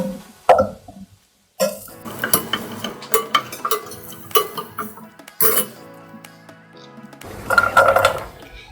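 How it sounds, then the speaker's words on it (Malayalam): A spoon stirs noodles with garam masala in a metal pan at home, giving irregular scraping clinks and soft clatters in bursts separated by short pauses, close and fairly loud. "നമുക്ക് നല്ലോണം ഇളക്കാം"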